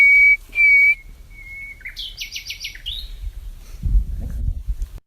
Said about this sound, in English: the bird also replied with a whistle with the exact pitch, but it also added something on top